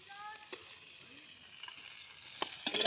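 Prawns fry in hot oil with a soft, steady sizzle, punctuated by a few light utensil clicks and a brief faint voice at the start.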